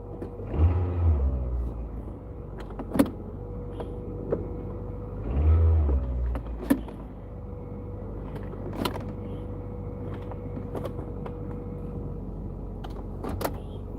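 Car with a failed shift, engine revving in two swells over a steady idle rumble, with scattered sharp clicks and knocks from the cabin and no talking.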